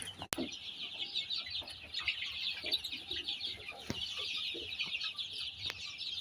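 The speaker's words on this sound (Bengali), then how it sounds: "নিয়ে আসছে এই যে মুরগি এখন খুলতেছে" Fayoumi chicks cheep as their box is opened: a dense, continuous chorus of high peeping close by, with a few sharp knocks and rustles.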